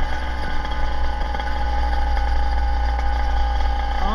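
A custom motorized bicycle engine idles with a steady, close, even mechanical hum and faint clatter, holding a constant pace with no revving.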